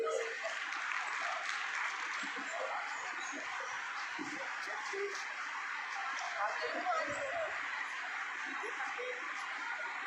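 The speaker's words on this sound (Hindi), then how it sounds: "इन तीनों के लिए भी आप तालियां बजाएं।" Audience applause for consolation prize winners at an International Nursing Day event held by a hospital welfare committee in Bikaner, a steady dense clapping that lasts throughout with faint voices underneath.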